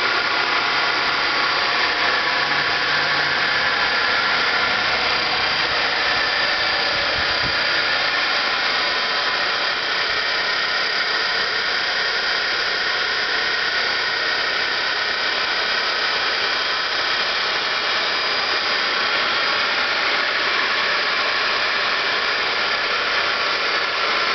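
An electric motor runs steadily for a brush seating process alongside a mounted power steering pump, giving a constant loud whirring hum with no breaks and no talk throughout.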